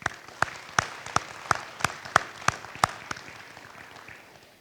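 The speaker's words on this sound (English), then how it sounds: "please join me in a round of applause for everyone that's standing here in front of us" Sparse applause from a small crowd at a military change of command ceremony for the 2nd BSB, about a dozen distinct claps in an uneven rhythm that thin out and fade toward the end.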